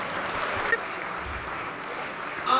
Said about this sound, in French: On les applaudit très fort, c'est par là.